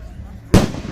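A single firework bursts in a Kansas backyard show, one sharp, loud bang after a stretch of quiet night ambience, with voices nearby.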